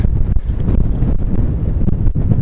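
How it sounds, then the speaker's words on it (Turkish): Strong afternoon wind blows outdoors around a garden villa in Didim Efeler, buffeting the microphone with a loud, continuous, gusty rumble and no talk. "Evet Efe'lerin meşhur rüzgarı başladı."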